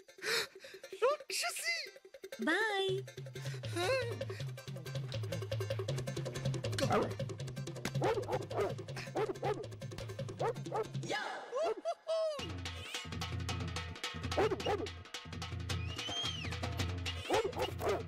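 A neighbour's dog barks in short yips and whimpers indoors, close and fairly loud, mixed in with people talking over it in bursts across the stretch.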